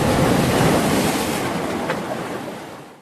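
Steady loud roar of rushing floodwater, broad and continuous, fading slightly toward the end, with no voices.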